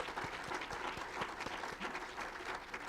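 Audience applause for a museum benefactor at a lecture hall gathering, steady and moderately loud with dense patter of many hands sustained throughout.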